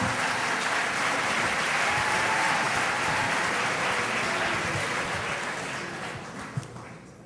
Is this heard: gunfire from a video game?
no